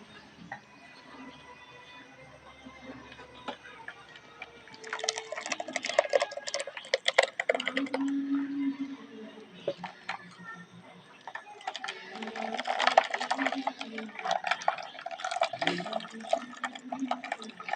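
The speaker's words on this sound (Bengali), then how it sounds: "এবার এই আমের পেস্টটাকে আমি ছেঁকে নেবো" Boiled mango pulp is pressed through a sieve with wet scraping and squelching sounds in irregular bursts, close by and fairly quiet, alongside clinks against the utensil.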